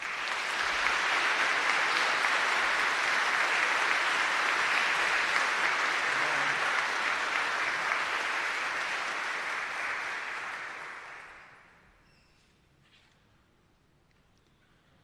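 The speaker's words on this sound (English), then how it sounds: "Please join me in a hearty round of congratulatory applause for" Sustained applause from a ceremony audience at a Veterans Day event at a school, steady and full for about eleven seconds before fading out to near silence.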